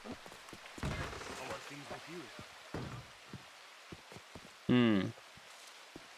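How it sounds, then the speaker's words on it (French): Rain falls steadily in the Red Dead Redemption 2 town of Rhodes, a continuous soft hiss running under people talking, with a brief louder burst near the end. "il commence à pleuvoir"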